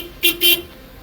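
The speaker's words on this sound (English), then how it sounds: "Honk if you believe." A passing car at a roadside electoral demonstration in Guyana sounds two short, loud honks in quick succession over faint street background.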